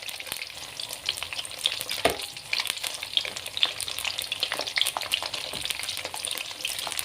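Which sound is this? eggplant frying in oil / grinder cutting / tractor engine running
eggplant frying in oil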